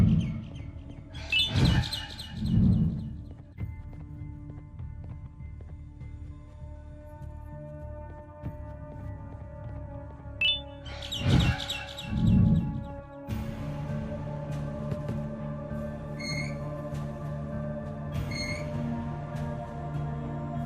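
Birds chirp in the video game Garten of Banban, bright repeated tweets over a steady low ambient hum and tonal game background, with a couple of louder bursts and several short calls toward the end.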